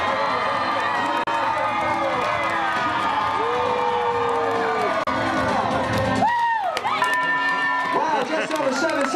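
A loud crowd cheers and shouts continuously while dogs race an agility course at a timed event, with children's voices and a whistle-like cry rising near the end amid steady clapping and talk.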